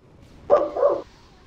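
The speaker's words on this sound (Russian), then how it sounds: "Она под окном лает, он на улице." A dog outside under a window gives a single short, muffled bark-yelp, distant and brief against a quiet background.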